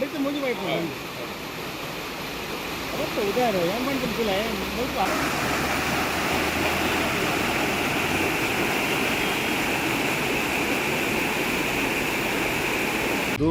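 Floodwater rushes through drainage pipes in the Baikampady industrial area, a loud, steady roaring wash of water. Someone talks over it at the start, then the water carries on alone.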